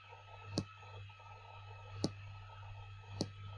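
Three sharp mouse clicks in Adobe Lightroom undoing edits, spaced about one to one and a half seconds apart, faint and close over a steady low electrical hum.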